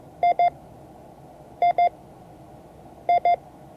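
Morse code for the letter I, two quick short beeps sent three times at even intervals, clear above a soft background hiss with no voices.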